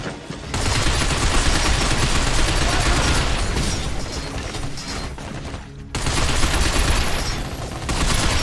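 Sustained rapid gunfire crackles loudly and almost without pause in the video game Binary Domain, dipping briefly before another dense burst, with voices faintly mixed in.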